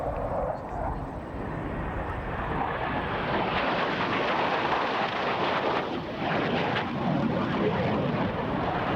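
Blue Angels jets fly an opposing knife edge pass at an air show, a loud, broad jet roar that swells and rumbles steadily throughout with wind buffeting.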